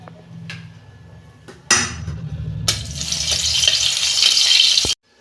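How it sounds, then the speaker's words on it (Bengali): A dry red chilli hits hot oil in a wok with a sharp clatter, then a loud, steady sizzle that runs for a few seconds and cuts off abruptly. "এই যে একটা শুকনো লঙ্কা ফোড়নে দিচ্ছি"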